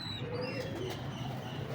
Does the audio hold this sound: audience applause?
no